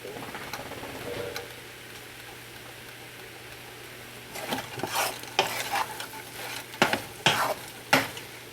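Singapore mai fun rice noodles being stir-fried in a hot wok, with a steady low sizzle beneath a run of scraping, clattering spatula strokes that grows busier toward the end.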